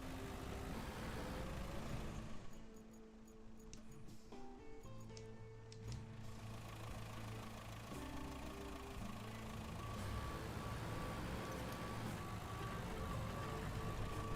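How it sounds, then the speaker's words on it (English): A truck rumbles in reverse in the RoadCraft game, a steady, moderately loud engine drone with a low hum and a shift in tone midway, continuing without interruption. "Sounds like the truck's driving because it's in reverse."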